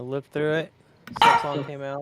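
A house dog barks in the background during a casual online chat, short yips breaking in between people speaking close to the microphone.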